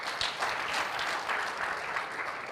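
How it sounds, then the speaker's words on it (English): A youth forum audience in Kigali claps steadily for a few seconds, dense and even applause without any voices standing out. "Can't we clap for that?"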